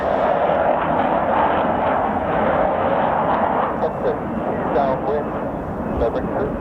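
F-35B Lightning stealth fighter jet preparing for a vertical landing, its engine a steady rumbling roar at a moderate distance, with people talking over it throughout.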